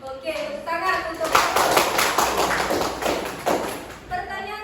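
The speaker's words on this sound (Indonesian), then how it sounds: "Oke, tepuk tangan untuk" Classroom applause from a group of students, a dense burst of many hands clapping for about three seconds, with brief talk before and after.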